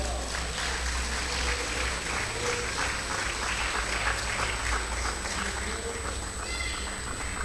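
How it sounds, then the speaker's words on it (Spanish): A church congregation claps in a sustained, even round of applause over a low electrical hum, with a faint voice or cry rising near the end. "¿Cuánto le dan aplauso a Cristo Jesús?"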